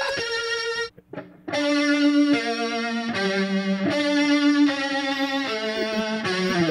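Electric guitar played through heavy distortion and effects pedals over online voice chat in Black Ops 2, loud sustained warbling chords with an eerie sci-fi wobble, broken by a brief gap near the start and no speech.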